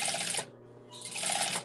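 A sewing machine stitches cotton fabric in short segments while a memory bear is made, giving two brief bursts of soft, rapid whirring with a quiet pause between them, heard close and alone.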